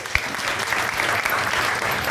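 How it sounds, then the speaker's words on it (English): A comedy club crowd at a stand-up show breaks into loud, dense applause, a continuous roar of clapping close by, with a few voices faintly mixed in. "Let's give them a round of applause"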